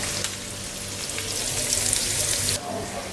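Food frying on a well-used tawa until golden, a steady close sizzle and crackle with some stirring, briefly swelling before dropping off near the end.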